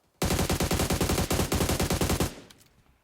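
A long burst of automatic gunfire in the mobile shooter PUBG Metro Royale, fast evenly spaced shots lasting about two seconds, loud and close, then a brief fading echo.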